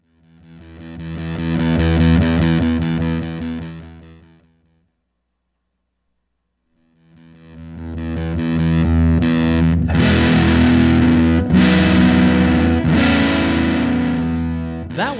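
Electric guitar with heavy fuzz distortion through a Hilton Volume Pedal Pro Guitar Edition sustains a thick chord that swells in and fades out, stops briefly, then swells back with busier strummed notes.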